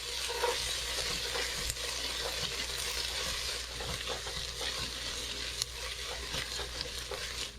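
Tomato paste gets stirred into onions sautéing in a pot for peanut soup, a continuous close sizzle with soft scraping and occasional spoon taps throughout, no one speaking.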